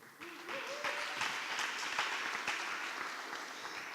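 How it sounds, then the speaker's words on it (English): An audience at a talk event applauds, a short burst of steady clapping that swells and then holds before tapering, with a brief voice at the start. "Round of applause for everybody"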